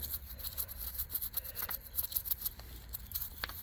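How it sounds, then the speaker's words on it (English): A brush scrubs grime off a car strut tower on a Fox-body Fairmont wagon, a faint, quick bristly scratching in short repeated strokes close to the listener. "This is a dirty brush too, but just going to end up scrubbing all the stuff off."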